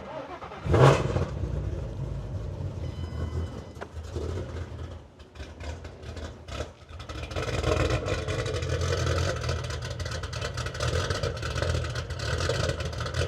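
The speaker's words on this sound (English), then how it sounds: "I'm gonna do a cold start really quick" A Ford Mustang Coyote V8 running on E85 cold-starts with a sharp burst, then settles into a steady, rumbling idle that carries on close by for several seconds.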